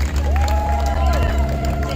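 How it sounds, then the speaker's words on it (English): A rally crowd in Philadelphia claps and cheers in a dense, continuous wash of applause and babble, with voices shouting over it. "Clap for yourselves"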